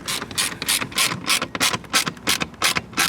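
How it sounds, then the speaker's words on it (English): Screw being tightened with a ratchet during an installation on a 2022-2025 Mercedes EQS sedan, a rapid series of close, crisp ratcheting clicks in short repeated bursts. "then now start tightening up the screw"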